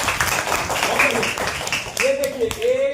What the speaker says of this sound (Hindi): ताली बजाने के लिए।